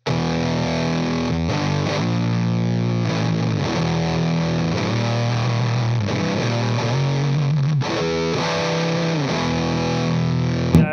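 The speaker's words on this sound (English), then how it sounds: "we're literally running your pickups and your guitar through your fuzz pedal into your head right now" Electric guitar driven through a fuzz pedal into an amp head, playing a thick, heavily distorted riff with sustained chords and sliding notes, loud and continuous throughout with no talk.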